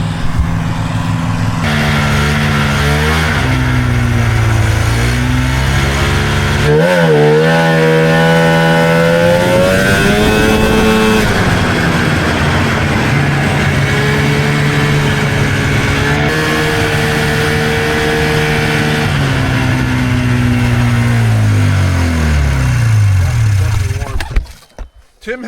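A modified snowmobile with a bogging engine revs hard and loud on a test ride, its pitch rising and falling over a constant roar before it cuts out near the end.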